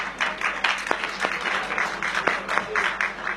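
Audience applause at a religious assembly (dharm sansad), steady crowd clapping with rhythmic swells throughout, fairly close and continuous, with a voice faintly underneath.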